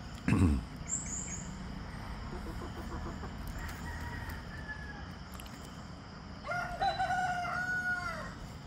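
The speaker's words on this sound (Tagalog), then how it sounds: "Chicken everywhere. I have chicken everywhere." Rhode Island Red chickens on a farm, a rooster crowing near the start and again loudly toward the end, with scattered clucking in between over a steady background.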